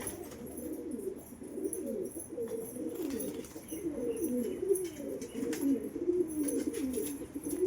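Domestic pigeons, including females just fed in their loft, cooing in repeated low rolling phrases close by, steady throughout with faint clicks and no talking.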